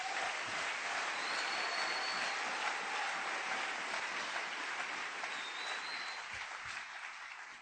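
A church congregation breaks into sustained, dense applause that fills the room with even clapping, fading a little toward the end, with a faint voice briefly over it.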